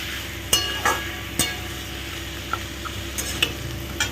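Green peas with a little sugar frying in a pan, stirred with a utensil that scrapes and clinks in several sharp taps over a continuous close sizzle, no talking.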